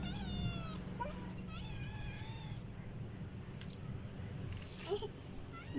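A pet cat meows several times up close, the calls rising and falling over a soft background murmur.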